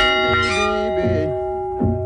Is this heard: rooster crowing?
no